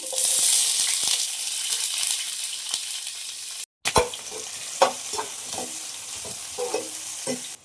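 For a mutton biryani, chopped onions fry in hot sesame oil. A spatula scrapes and stirs through a continuous sizzle, with a brief gap partway through and then louder scraping strokes.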